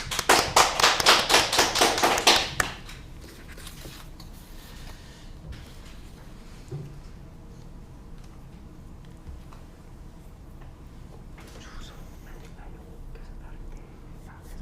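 Audience applause welcoming a monk's lecture at an education briefing in Haenam, a short burst of brisk clapping at the start that then drops away into quiet room tone.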